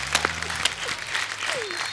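An audience on a comedy show stage bursts into applause, a short loud wave of clapping with a few voices and whoops mixed in, fading after about two seconds.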